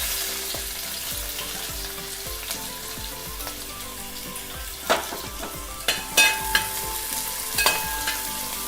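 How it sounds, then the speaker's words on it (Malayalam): Sliced onion hits hot oil in a pan and fries with a steady sizzle, with occasional sharp stirring clatters and scrapes up close, and no talking. "അപ്പോൾ അതേ ഓയിൽ ചൂടായിട്ടുണ്ട്. നമുക്ക് ആദ്യം സവാള ചേർത്ത് കൊടുക്കാം."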